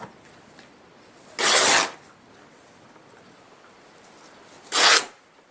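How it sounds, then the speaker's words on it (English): Two separate bursts of ripping as strips are torn from a Dollar Tree wall decor piece, each a loud, broadband tear lasting about half a second, spaced a few seconds apart in a quiet room. "Now what I'm going to do is rip it."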